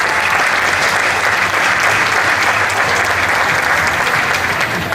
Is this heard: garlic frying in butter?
no